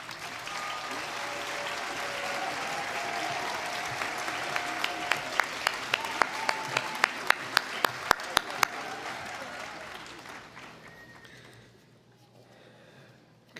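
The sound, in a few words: ceremony audience applause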